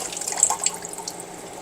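Tap water runs after a whole-house water filter replacement, a steady close hiss of flowing water with a few brief splashy spikes and no talk.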